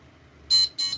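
An electronic auction countdown timer sounds two loud, high-pitched beeps in quick succession, close and alone against a quiet background.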